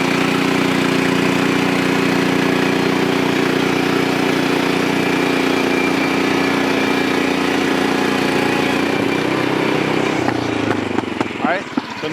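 A portable sawmill's engine drones loud and steady while it cuts through lumber, then its pitch drops and shifts as the cut finishes, with a voice speaking over the noise.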